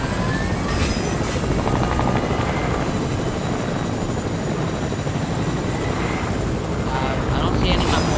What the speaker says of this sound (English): we're grabbing the chopper and we're going to get out